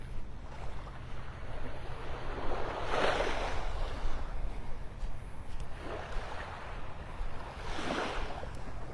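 Ocean waves roll onto the beach at Delnor-Wiggins in North Naples, Florida, on an early morning, with steady surf noise and several louder breaking swells, plus some wind rumble.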